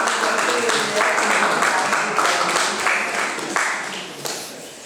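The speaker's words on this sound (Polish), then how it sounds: "Brawo! Wielkie brawa i gratulacje." Steady applause from a concert audience at the Museum of Kashubian Culture, dense clapping that carries on evenly and gradually fades toward the end.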